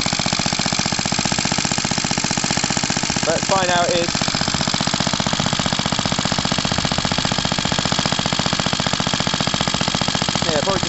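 A Suffolk stationary engine runs steadily up close with a rapid, even chugging beat that stays loud throughout, while someone speaks briefly over it.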